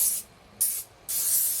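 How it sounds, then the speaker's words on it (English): Cooking oil spray hisses onto a cake pan in three short, close bursts, the last one longer, with quiet gaps between. "we're going to give it another quick spray"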